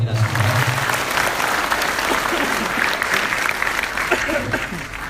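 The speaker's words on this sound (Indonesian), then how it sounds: "Tepuk tangan dong buat kita semua." Sustained applause from an audience at a Ramadan break-fast gathering (bukber), steady and fairly loud, with a few voices mixed in before it begins to fade at the end.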